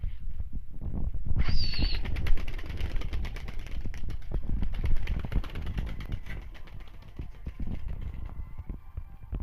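Tumbler pigeons take off and fly nearby, a rapid flutter of flapping wings with a brief bird call near the start, over outdoor background noise and no talking.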